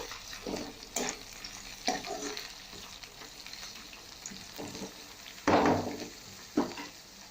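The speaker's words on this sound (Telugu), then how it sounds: "క్యాప్సికమ్ కూడా వేయించుకొని కాసేపు కుక్ చేద్దాం ఈ విధంగా కలుపుకొని" Capsicum fries in a pan for a capsicum cashew curry, with a soft continuous sizzle broken by several louder scraping stirs. One stir near the end is the loudest.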